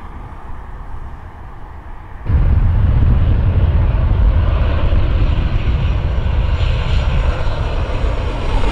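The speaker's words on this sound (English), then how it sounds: "One takeoff, one landing." Jet airliner taking off or landing at LAX airport, a loud, close, continuous engine roar that surges in abruptly after a quieter stretch of distant rumble and then holds steady to the end, with no talk.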